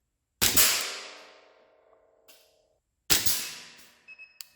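Two sharp, loud cracks from a SIG Sauer P226 4.5mm blowback air pistol, each with a snapping slide action and a short ringing decay, followed by a few faint metallic clicks.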